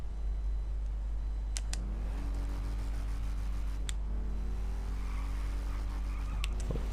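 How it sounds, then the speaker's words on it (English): A car in GTA V revving through burnouts, with a steady engine drone under rising engine tones and short sharp tire chirps and squeals scattered across it. "Pops burnout, does burnouts while it's popping wheelies"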